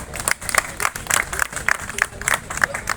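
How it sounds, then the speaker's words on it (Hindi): An audience at a large community gathering in Delhi claps to welcome a guest, a loose burst of many hands clapping in uneven waves, with voices mixed in. "एक बार सभी तालियों के साथ स्वागत करें।"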